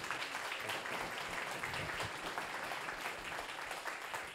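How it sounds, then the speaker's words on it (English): An audience at a health AI symposium applauding a speaker, a steady wash of many hands clapping throughout, moderately distant and even in loudness. "Let's give a round of applause."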